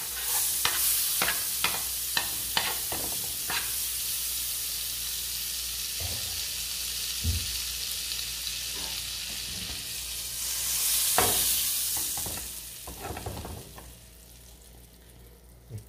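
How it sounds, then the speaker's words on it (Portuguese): Beef steaks fry in butter in a very hot skillet, a continuous close sizzle broken by sharp clinks and scrapes of a utensil, with a louder hiss swelling midway before it settles. "E vamos começar a fritar. Com a frigideira bem quente, manteiga."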